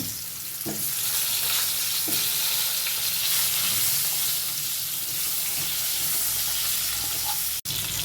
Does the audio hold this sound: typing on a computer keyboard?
no